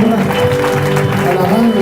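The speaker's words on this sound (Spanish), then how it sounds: "Dale un fuerte aplauso al que merece la gloria" A church congregation claps loudly and continuously, the applause thick and close, mixed with voices and music.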